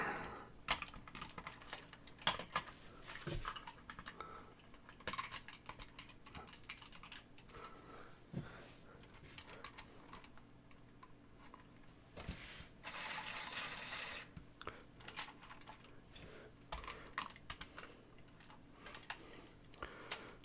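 Typing on a worn, falling-apart computer keyboard, with rapid irregular clicks and clacks throughout, close and fairly loud, pausing briefly now and then before resuming in bursts.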